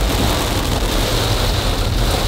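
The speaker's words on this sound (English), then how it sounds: "Now it's really raining." Heavy rain pours down outdoors in a dense, steady hiss of drops, loud and continuous from start to finish with no voices.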